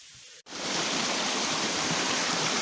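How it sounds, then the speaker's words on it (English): Waterfall beside a cave, a loud steady rushing roar of falling water that begins abruptly after a brief quieter moment and continues unbroken, with no voices. "So caves and waterfalls like this"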